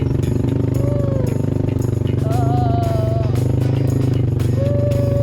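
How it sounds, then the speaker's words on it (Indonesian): A motorcycle carries riders along a rough garden road in the mountains, its engine a steady close, loud putter with gear whines rising and falling, while people talk over it. "emak lagi naik motor"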